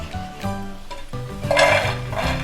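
Crispy fried masala peanuts rattle and scrape against a pan as they are stirred, a close, continuous clatter with brighter bursts partway through and no voices.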